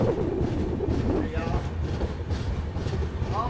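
A Golconda Express train pulls away on the main line and picks up speed, a dense close rumble of wheels and running gear, with someone talking over it.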